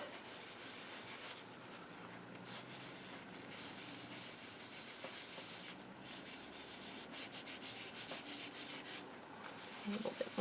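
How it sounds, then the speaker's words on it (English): A tissue rubs and buffs across an embossed, inked paper card, giving a continuous close, soft scratchy wiping sound that stays steady throughout with no talking. "Any of that ink that's sitting on top of that embossing needs to be wiped off."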